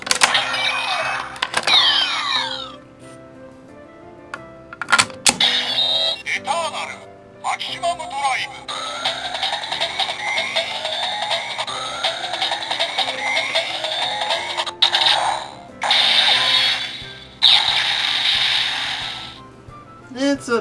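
A DX Lost Driver toy transformation belt plays its maximum drive sound effects: electronic chimes, synthesized voice calls and looping music, moderately loud and close, with short pauses between bursts.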